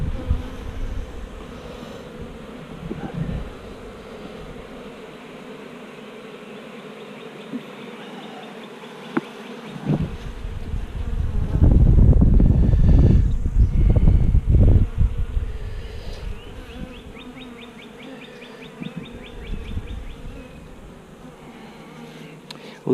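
Honeybees in an open hive under inspection buzz steadily throughout, the hum swelling loud and close midway as the colony stirs, then easing back to a lighter drone, with no one talking.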